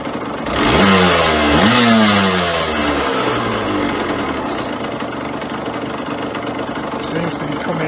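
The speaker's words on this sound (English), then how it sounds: "it should be idling just over 1000 RPM" An engine revs up briefly, then settles into a steady, loud idle at around 1000 RPM, a continuous mid-pitched rumble that carries on alone to the end.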